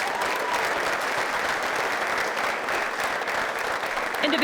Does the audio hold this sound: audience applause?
yes